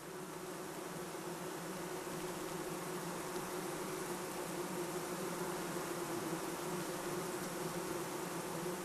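Honeybees buzz steadily inside a hive as they pack pollen into cells, a dense continuous hum of many wings with no pauses, moderately loud and close.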